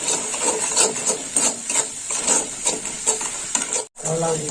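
A salted spice mixture is stirred in a frying pan for a Bengali dish: rhythmic scraping strokes over a soft sizzle, close up, with a brief pause near the end.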